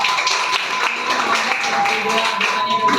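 Classroom applause from students after a group presentation, a dense, steady patter of many hands clapping throughout at moderate loudness, with no voices standing out.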